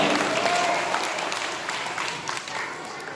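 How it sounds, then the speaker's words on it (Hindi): Strong, steady applause from a quiz competition audience welcoming the next team, a dense continuous clatter of many hands that eases slightly toward the end. "एक बार जोरदार तालियों से इन तमाम का इस्तकबाल किया जाए"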